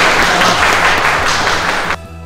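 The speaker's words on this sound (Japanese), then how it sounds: "じゃあ皆さん拍手をお願いします" Loud, dense audience applause at a martial arts meeting between a kung-fu master and an MMA fighter, a steady wash of clapping that cuts off sharply near the end.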